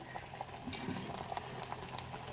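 Sambar with carrot pieces, green chillies, curry leaves and coriander bubbling in a pot, soft irregular pops and gurgles at a low, steady simmer.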